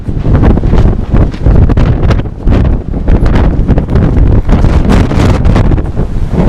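Strong gusty wind roars outdoors during a storm with warnings of winds near 100 km/h, loud buffeting and rushing continuously against the microphone with no voices.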